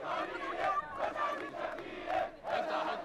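A protest crowd pushes toward a cordon at parliament buildings, blocked by tanks, roaring and chanting in loud rising and falling surges of many voices.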